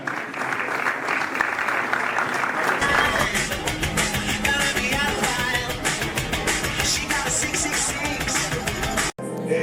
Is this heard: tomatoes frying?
no